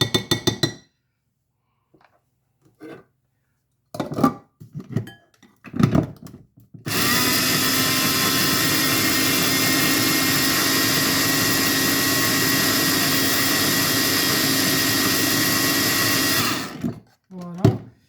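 A blender mixes artichoke cream in a loud, steady whir that runs for about ten seconds. Brief talk and clinks come before it, and it stops abruptly near the end.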